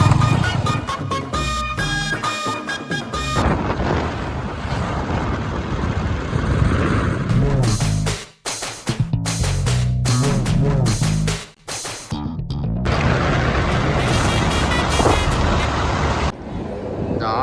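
A car engine runs steadily while driving, with a loud continuous road and engine roar that briefly drops out twice, and people talking over it at times.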